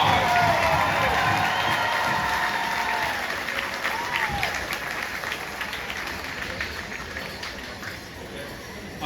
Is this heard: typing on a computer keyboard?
no